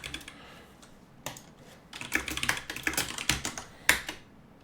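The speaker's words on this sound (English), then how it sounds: "So do you run a mechanical keyboard?" Someone types on a mechanical keyboard with MX Brown switches. The keystrokes are close and crisp, starting sparse and then speeding into dense, uneven bursts of clicks.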